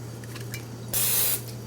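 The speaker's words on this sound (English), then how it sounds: "spray a little bit of cooking spray down" A short, close hiss of cooking spray into a pan bursts for about half a second over a steady low hum.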